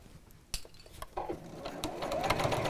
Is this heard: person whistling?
no